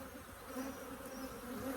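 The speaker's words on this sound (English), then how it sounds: "We've got some nice colonies here, full of bees." Dense, steady buzzing of many honey bees around a hive at close range, a droning hum with wavering pitch and no voices.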